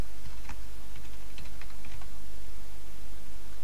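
Rapid clicking keystrokes on a computer keyboard, a quick uneven patter of taps up close against a steady background hum.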